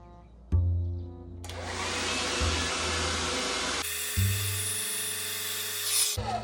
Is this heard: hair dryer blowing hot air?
yes